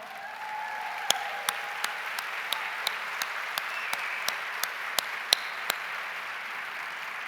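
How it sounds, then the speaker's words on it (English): Sustained crowd applause at an education event honoring two teachers, a soft steady wash of clapping with several sharp, distinct claps standing out near the microphone at an even pace. "Please stand up, give them a huge round of applause."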